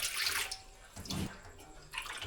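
Water is poured into a pot to cook Maggi noodles, splashing in several rushing bursts: one at the start, a lower gush in the middle and another near the end.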